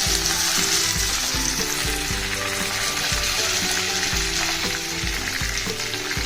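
Curry leaves, onion and urad dal sizzle loudly in hot oil while cooking carrot rice, a continuous crackling hiss with occasional stirring knocks underneath.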